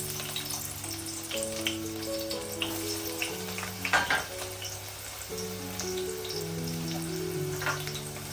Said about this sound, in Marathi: तेल चांगलं तापलं की आपण कांदा टाकूया